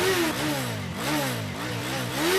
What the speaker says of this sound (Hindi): बाइक पे किक मार।